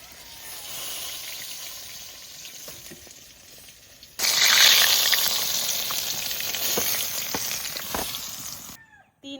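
Pieces of a large silver carp frying in oil, a soft crackling sizzle that jumps sharply louder midway as more fish hits the hot oil, then holds steady until it cuts out near the end.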